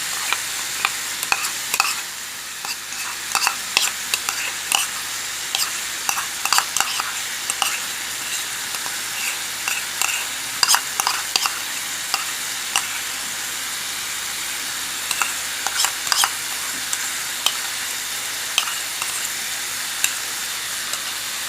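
Pork afritada with tomato sauce being stirred in a hot pan: a steady sizzle and hiss runs throughout, with frequent scraping utensil strokes and clicks, close and continuous, with no clear talking.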